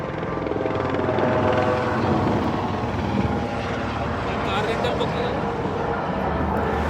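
A tour helicopter flies over the Las Vegas Strip, its steady rotor drone loud and continuous throughout, blending with city noise and a speaking voice.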